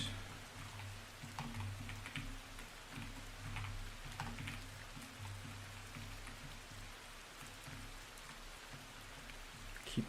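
Light rain falling steadily, a soft continuous patter of drops with a low hum running underneath and faint clicks scattered through it, even and unbroken.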